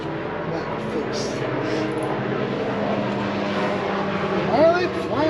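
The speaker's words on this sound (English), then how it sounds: "Is that a helicopter or a plane?" A low-flying aircraft, either helicopter or plane, passes over an off-grid cabin in Alaska as a steady, moderately loud engine drone that holds throughout, with faint voices beneath it.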